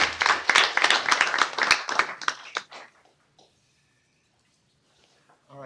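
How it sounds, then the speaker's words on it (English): A short burst of applause from a small group at a utility board of trustees meeting, lively for a few seconds and then quickly dying out into near silence. "we'll give you a round of applause, I guess"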